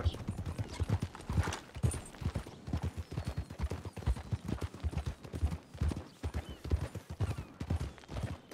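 Steady clip-clop of horse hooves trotting at a quick, even pace in the video game RedM, loud and close, with a voice speaking in Spanish over the hoofbeats.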